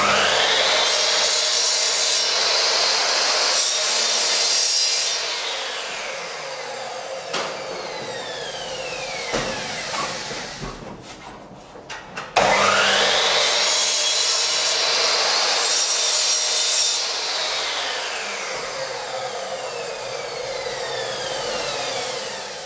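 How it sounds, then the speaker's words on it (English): A Ryobi 305mm sliding compound mitre saw (EMS305RG) cutting different types of timber: loud, close motor whine rising as the blade bites, a brief pause, then another long cut. "So I'm just cutting some different types of timber here for you to have a look."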